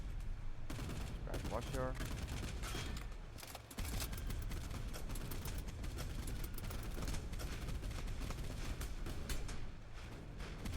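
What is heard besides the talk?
gunners firing machine guns, from the video game Boat Crew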